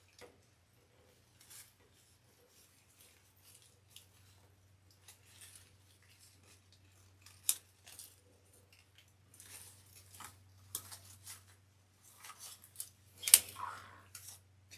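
Scissors cut artificial flower stems for a grapevine wreath, making scattered quiet snips and clicks that grow a little busier toward the end, set against a near-silent room.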